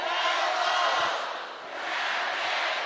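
Volleyball crowd at McCambus Pavilion roaring and cheering without a break during a challenge review in a Georgia versus Georgia Tech ACC match, loud and sustained with a brief dip midway.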